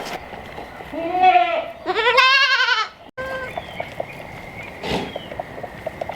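A goat bleats loudly several times in quick succession nearby, wavering cries with quieter farmyard noise and a faint bleat later.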